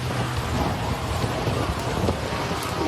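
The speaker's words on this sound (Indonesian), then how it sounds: "Akibat angin kencang yang disertai hujan gerimis" Strong wind with drizzling rain at an outdoor wedding tent, a dense, continuous loud roar of wind-driven rain with no breaks.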